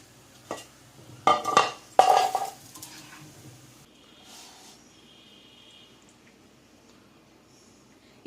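Cashew mint pakoda lifted out of hot frying oil with a metal utensil: a few sharp scraping clinks against the pan, then faint sizzling oil fading into near quiet.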